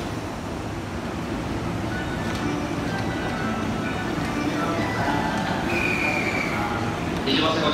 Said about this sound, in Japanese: 列車進入中です。